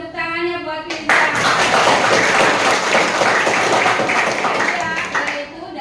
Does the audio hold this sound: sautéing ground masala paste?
no